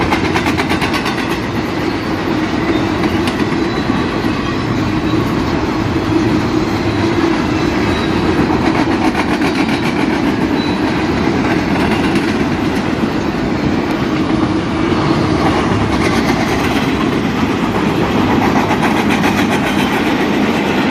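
A southbound BNSF train of flatcars rolls past at Rosedale Highway, a loud, close, continuous rumble with rhythmic clickety-clack of wheels over rail joints throughout.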